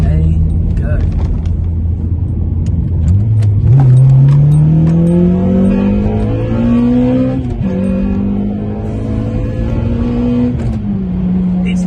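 Honda Type R fitted with a new induction kit, its engine revving up through several rising pulls then easing back, loud and close, with people talking over it.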